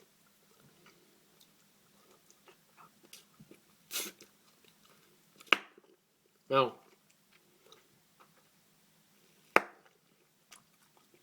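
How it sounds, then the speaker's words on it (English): Double Bubble gumballs being chewed into bubbles, with a few small, sharp pops and snaps spaced out over quiet chewing sounds, close and fairly soft, with a brief spoken word. "you can probably hear some bubbles snapping in the background"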